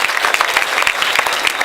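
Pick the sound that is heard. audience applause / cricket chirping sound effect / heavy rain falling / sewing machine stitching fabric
audience applause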